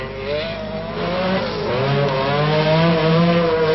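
Rally car based on a Ford Fiesta with a naturally aspirated Jaguar engine racing at Rally Formula Oviedo 1997, a loud revving engine rising in pitch as it accelerates, with sustained harmonic whine and no talk.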